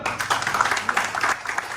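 An audience claps steadily for a professor at an Indonesian presentation, a dense, continuous wash of applause that stays fairly loud throughout with no clear talking.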